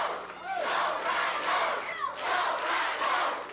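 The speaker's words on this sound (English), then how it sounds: "Go, Brian, go, says the crowd." Wrestling crowd at a 1996 USWA television event chanting for Brian Christopher, a steady rhythmic chant rising and falling in regular waves, moderately loud and continuous.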